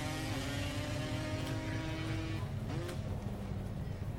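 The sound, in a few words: racing lawnmower engines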